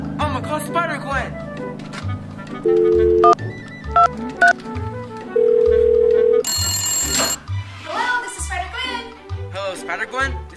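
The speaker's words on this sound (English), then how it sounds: "I'm gonna call Spider Gwen." A toy phone rings with several loud, steady electronic tones during a child's pretend call to Spider Gwen with a Miles Morales Spider-Man toy; a voice talks between the rings.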